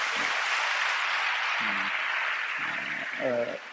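Steady applause from a church congregation for the sound team, a dense continuous wash of clapping at moderate level, with a few short voice-like tones over it.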